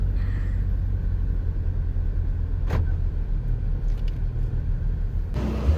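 Inside a car on a short ride to a hotel, a steady low road and engine rumble fills the cabin. There is a brief sharp sound midway and a click or shift near the end.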